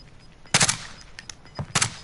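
Two loud, close bursts of automatic gunfire in Call of Duty: Warzone, each a rapid cluster of sharp shots about a second apart, with no talk.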